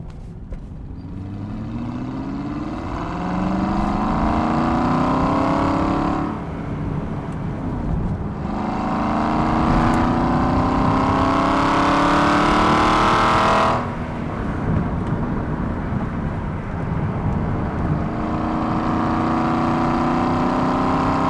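An Aston Martin Vantage engine revs hard while driving, with rising harmonic sweeps that climb through the gears and dip sharply at two shifts. It is loud, close and continuous, with no voices.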